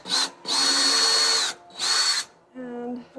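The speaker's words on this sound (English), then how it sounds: "take your other drill and drill the hole first" Cordless power drill whirring in three bursts, two long and one short, as screws are driven during cabinet installation, with a lower motor whine trailing off at the end; close and loud.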